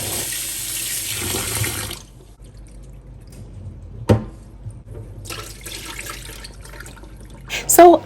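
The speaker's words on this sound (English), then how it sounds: "I'll go ahead and then wash my rice" Tap water runs steadily onto rice being rinsed in a sink for Ghanaian jollof, a broadband rush for about two seconds, then quieter handling with a sharp knock and a brief renewed gush near the end.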